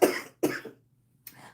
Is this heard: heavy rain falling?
no